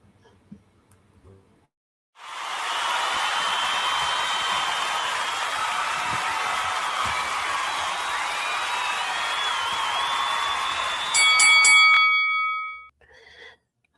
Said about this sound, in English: right after the bell